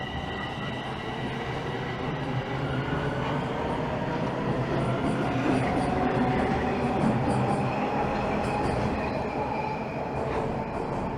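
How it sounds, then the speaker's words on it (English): A northbound Toronto subway Line 1 train passes through Dundas Station downtown, with a steady loud rumble of wheels on rails, high squealing tones and faint clicking, sustained throughout. "And there goes a northbound Line 1 train."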